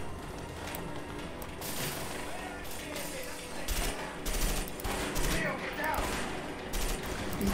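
Rapid gunfire rattles through a shooting scene in the co-op video game A Way Out, in dense bursts of automatic fire with sharp, loud shots that carry on steadily throughout.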